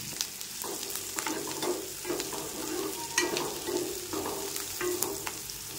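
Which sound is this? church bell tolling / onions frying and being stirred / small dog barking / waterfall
onions frying and being stirred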